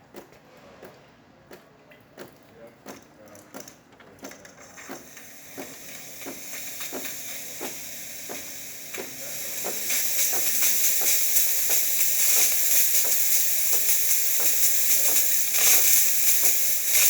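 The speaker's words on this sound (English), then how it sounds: "This is the steamer." Steam wand on a serviced DeLonghi Magnifica espresso machine hissing: a faint hiss with regular clicking pulses at first, then swelling into a louder, steady rush of steam, with the pump's rhythmic ticking continuing underneath throughout.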